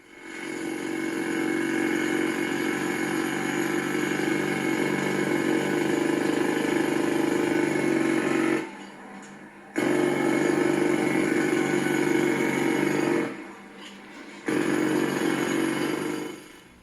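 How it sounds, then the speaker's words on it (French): Jackhammer running in loud continuous bursts, a dense steady rattling roar that stops briefly twice and starts again, with no talk. "C'était le son du marteau-piqueur."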